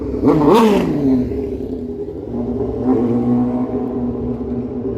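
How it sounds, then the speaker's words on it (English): A loud motorcycle on a Toronto city street gives one sharp rev near the start and settles into a rumbling idle, then revs a second, milder time before idling on. The engine is close and dominant. "Loud motorcycles are not cool."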